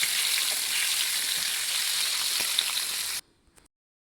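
Marinated chicken frying on a tawa sizzles in a steady, hissing crackle that cuts off abruptly, followed by a couple of faint clicks.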